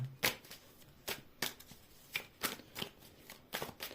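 Playing cards flick and snap quietly in irregular short bursts, with soft rustling between them, close but faint.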